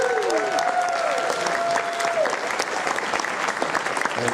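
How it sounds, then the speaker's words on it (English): An audience at a megaplex opening ceremony claps loudly and steadily throughout, a dense wash of applause with a faint tonal whistle or squeal early on. "Everybody, big round of applause for our guests."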